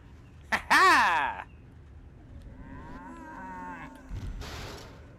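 A loud synthetic cow moo rings out once in Destroy All Humans, followed by a softer drawn-out lowing and a brief burst of noise, like game sound effects.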